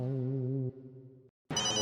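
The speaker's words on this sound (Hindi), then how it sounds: "वो आ गया मेरे बॉस का फोन।" A telephone ringtone plays as an incoming call arrives, a loud electronic melodic tone that shifts pitch, drops away briefly into silence, then resumes sharply with a brighter burst.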